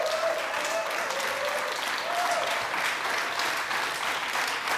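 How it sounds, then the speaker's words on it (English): A talk show studio audience applauds a famous guest with steady, even clapping that fills the room, while a faint voice carries faintly beneath it. "This is how I get the applause"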